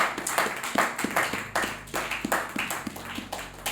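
A church congregation clapping in rhythm, a dense run of sharp hand claps in a steady beat, fairly close and lively, continuing without speech for several seconds.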